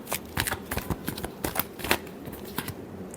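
A deck of tarot cards is shuffled by hand in quick, uneven riffling bursts, crisp and close, with short pauses between flurries and no talking.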